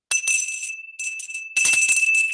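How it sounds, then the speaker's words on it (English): A small, pretty hand bell is rung to open a leadership symposium meeting, giving three bright tinkling bursts of ringing with a steady sustained tone between them, loud and close with no talking. "I have this really pretty bell with me today, and I'll ring it to start the meeting"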